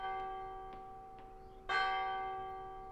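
A church bell tolls in the Italian horror game Martha is Dead, sustained harmonic ringing with a few soft strikes before a loud clang near the end, each tone decaying slowly.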